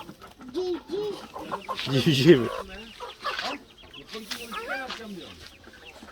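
Chickens cluck repeatedly nearby on a farm, with higher peeping of chicks mixed in, while a child and an adult speak Turkish over the birds.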